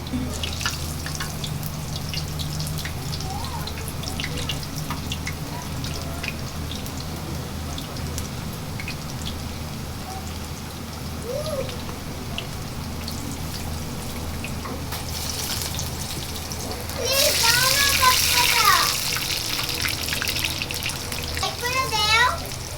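Beef piyaju fritters frying in hot oil in a wok, a steady crackling sizzle running throughout, louder and more bubbly toward the end, with a voice speaking faintly in the background.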